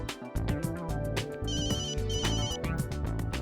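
Electronic phone ringtone playing a bright repeating melody, clear and moderately loud with no talk over it.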